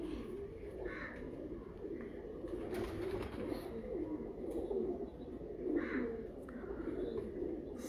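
Teddy pigeons coo in a low, throaty rolling chorus that carries on without a break, with occasional brighter chirps and soft noises over it and no speech.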